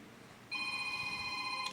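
A telephone ringing indoors during a live podcast, a bright electronic multi-tone ring that starts abruptly and holds steadily, moderately loud over a quiet room with no one speaking.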